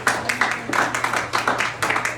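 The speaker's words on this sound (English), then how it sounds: "Please give a warm round of applause for Billy James." Applause for comedian Billy James at a comedy show at the Red Zone, a steady crowd clapping with pulsing swells that fills the whole stretch without any voices.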